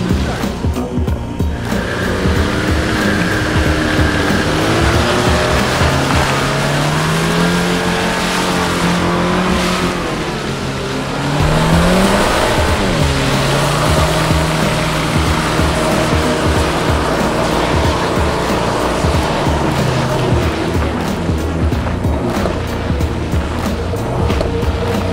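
An Audi Allroad accelerates off-road across grass, its engine note rising and falling through revs over a continuous rumble, with a voice talking briefly over the driving noise.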